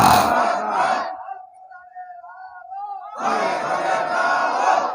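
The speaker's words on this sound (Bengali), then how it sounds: "তাকবীর দেন আমার সাথে।" A large crowd at a religious gathering in a bazaar roars a takbir chant in two loud swells, answering a single leading voice that calls out between them.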